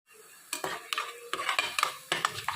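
Onion, garlic and green chili sautéing in a pan, a soft sizzle broken by repeated scraping strokes of a spoon against the metal, close and fairly loud with an irregular stirring rhythm.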